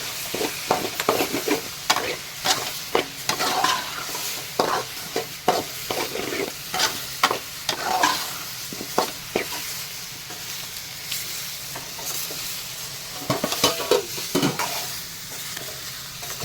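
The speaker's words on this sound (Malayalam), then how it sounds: "ഒന്ന് നന്നായിട്ട് ഇളക്കി കൊടുക്കുക." A mushroom roast frying in a pan is stirred repeatedly, with sharp scraping strokes in an uneven rhythm over a steady close sizzle.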